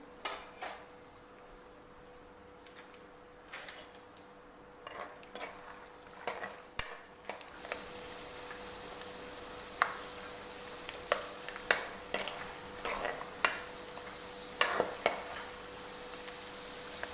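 Mustard seeds and peanuts frying in oil for poha chivda, a faint continuous sizzle broken by scattered sharp pops and the clink of a spoon against the pan, close and quiet throughout.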